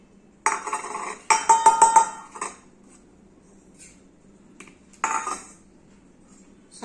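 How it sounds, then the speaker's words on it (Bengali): Eggs being beaten with salt and turmeric in a bowl, heard as short bursts of rapid clinking and scraping against the bowl separated by quiet pauses, close and fairly loud with no talking. "এখন এই ডিম যে ফাটিয়ে নেবো তার জন্য লবণ আর হলুদ এই বাটির মধ্যে নিয়ে নিয়েছি"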